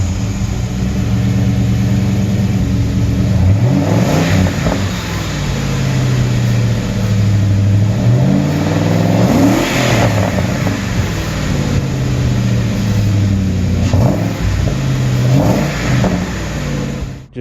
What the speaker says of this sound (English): It's got SLP loudmouth exhaust.